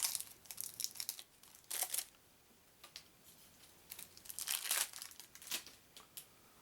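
Crinkly plastic shrink-wrap peeled and torn off a sealed deck of cards from the 2013 Hasbro Pointing Fingers board game, heard as close, bursty crackles and rustles in uneven clusters with quiet gaps, no talking.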